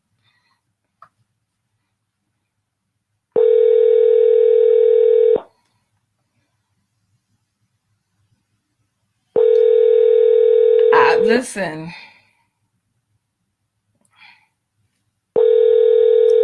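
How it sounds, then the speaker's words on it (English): Google Voice phone call connecting tone: a steady electronic beep lasting about two seconds, repeating three times with silent gaps, and a brief spoken word between the tones. "Please state your name after the tone, and Google Voice will try to connect you."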